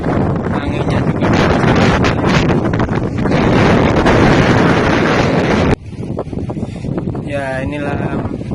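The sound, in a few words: strong wind on a sea cliff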